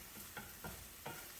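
Meatloaf ingredients sauteing in extra virgin olive oil in a pan, a low steady sizzle broken by three short stirring scrapes, close and fairly quiet, with no voices.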